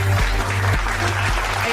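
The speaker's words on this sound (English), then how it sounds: "Can we have a big round of applause, ladies and gentlemen, for the beautiful event that's happening right now." Audience applause at an awards event honoring a college vice chairperson, a short burst of loud, close clapping from a gathered crowd with no talk over it.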